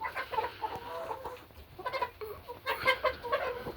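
Backyard hens settling to roost at dusk, clucking in uneven bursts close by with soft chatter between calls.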